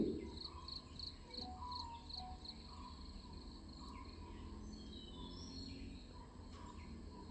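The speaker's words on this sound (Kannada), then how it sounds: "ಪಕ್ಷಿ ಪ್ರಾಣಿಗಳ ಧ್ವನಿ" Crickets trill steadily outdoors at a hill camp while birds chirp and call intermittently at a distance, all soft and continuous with no talking.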